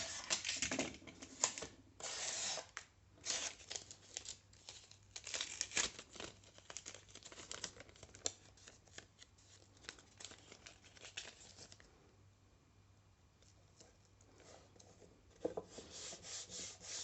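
Adhesive tape being rubbed and pressed down over a scrapbook-style recipe box, giving close, dry crinkling and rubbing bursts in irregular strokes, with a quieter stretch before the rubbing resumes.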